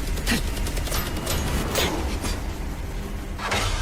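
Sharp bursts of gunfire crack out several times over a dense, noisy action soundscape in an animated series.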